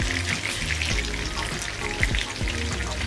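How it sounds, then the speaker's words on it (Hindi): Fish sizzles steadily in oil on a hot griddle for a mustard fish curry, a continuous dense crackling fry with small popping spits, close and loud with no talking. "पहले फिश फ्राई होने दीजिए अच्छे तरीके।"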